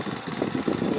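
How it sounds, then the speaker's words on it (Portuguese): Electric fan turned to blow downward into a box of drying mushrooms, a steady whooshing hum with a slight pulsing flutter, close and continuous. "Meu ventilador fica aí, ó, virado para baixo."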